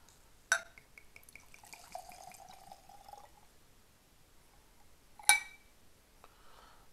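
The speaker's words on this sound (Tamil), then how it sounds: "ஸோ எப்போவுமே நான் எடுக்கிற மாதிரி வந்து ஒரு 60 ml நம்ம ஊற்றிக்கலாம்." Havana Club 7-year-aged rum is poured into a Glencairn glass: a sharp clink, a short trickling pour, then another glassy knock, all quiet and close in a still room.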